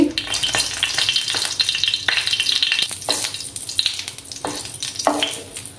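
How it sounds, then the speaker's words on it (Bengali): Dried red chilli sizzles in hot mustard oil in a pan for Bengali-style kakrol, a steady crackling fry with bright spattering and occasional stirring scrapes throughout, close and fairly loud, with no talking. "প্রথমে আমি একটা শুকনো লঙ্কা দিচ্ছি"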